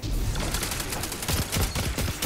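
Rapid gunfire in the Destiny 2 video game, a dense burst of loud, sharp repeated shots and impacts crackling throughout, with no talk.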